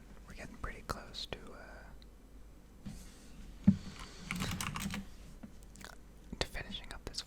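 A computer keyboard typed at close range, giving soft, scattered clicks beneath quiet whispered speech in an intimate ASMR setting.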